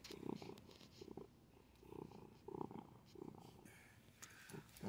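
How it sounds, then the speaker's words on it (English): A pet cat purrs in close, soft rhythmic cycles, with a brief louder sound near the end. "Hear him purring?"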